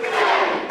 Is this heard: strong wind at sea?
no